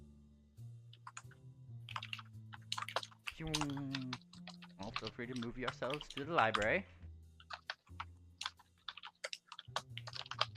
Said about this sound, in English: I can hear typing from whoever is typing.